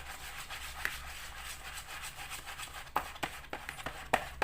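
Hands knead and stir a carp fishing bait mixture, producing soft close rubbing and squishing with a few sharper clicks and taps toward the end, quiet and with no voices.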